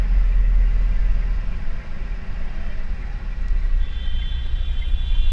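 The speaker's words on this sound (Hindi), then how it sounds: "पूरी कार स्मूथ चली, कोई मेजर साउंड नहीं है इंटीरियर वाइज" Steady low road rumble and muted engine hum inside a Tata Hexa SUV cabin while driving with the windows closed, continuous and even throughout with no voices.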